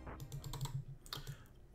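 Quick clicking from play in the video game Troddlers: a close run of small, sharp taps at a brisk, uneven rhythm over a steady low hum, with no voices.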